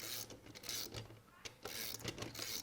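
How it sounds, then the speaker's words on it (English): A socket ratchet wrench clicks in short bursts while a bolt is snugged down on a robot swerve fuel mechanism, the rapid pawl ticks close and fairly quiet, with brief pauses between strokes. "do the last little bit of tightening with the socket"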